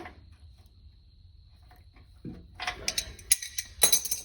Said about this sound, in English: We'll take our wrenches, see if we can't crack this line loose.